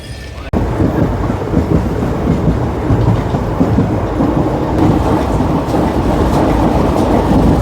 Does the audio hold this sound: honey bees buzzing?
no